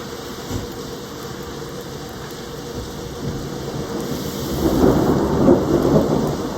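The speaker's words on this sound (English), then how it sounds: "there is a little bit of a thunderstorm" Steady rain with low rolling thunder, swelling louder and rumbling heavily toward the end.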